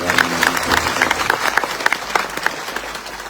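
A crowd applauding at a Maratha reservation rally, dense clapping from many hands, loud and close, steady throughout with a slight fade toward the end.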